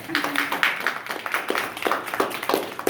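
An audience claps in a quick, uneven patter of close hand claps that stays fairly loud and continuous for a few seconds, with no clear speech over it.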